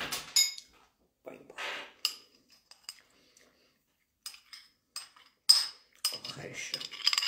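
A spoon clinks against dishes during a breakfast of corn, mashed potato and salad: sparse, bright metallic taps and scrapes come in short bursts separated by stretches of quiet.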